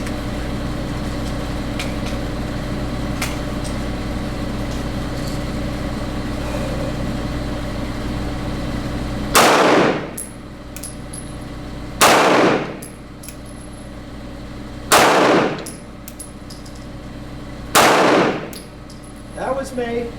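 Four loud, sharp shots from an M&P 2.0 9mm pistol crack outdoors at an even pace of about three seconds apart, each with a brief ringing tail, after a stretch of steady low background hum.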